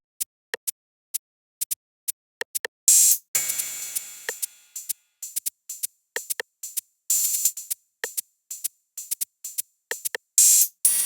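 Isolated Roland 808 and 606 drum machine sounds for a minimal tech house groove: crisp ticking hi-hats in a steady pattern with occasional longer open hat and noise swells, alone and fairly quiet.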